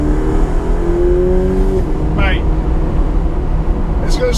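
A Ferrari 488 Pista sports car engine droning loud and steady from inside the cabin, with a rising tone early on and people talking over it.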